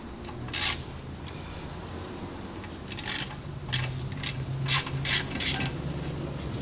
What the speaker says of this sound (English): we need a 13 millimeter socket and ratchet and extension